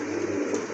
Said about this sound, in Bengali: খুবই সুন্দর ভালো মানের এক জোড়া কবুতর।